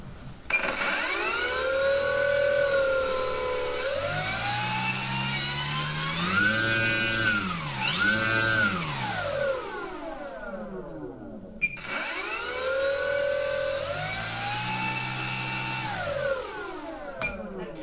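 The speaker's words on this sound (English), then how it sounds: "Now arm the motor. Motor on." An Arrows RC Red Husky 1800 model plane's electric motor and propeller spin up to a loud whine, rise and fall in pitch as the throttle is varied, cut off, then run up again close by.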